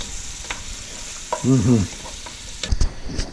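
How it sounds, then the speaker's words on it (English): Onions saute in a pan with a steady sizzle and a few scraping stirs close by; a short vocal sound rises briefly mid-way. "Saute them onions until they're pretty much sauteed and translucent."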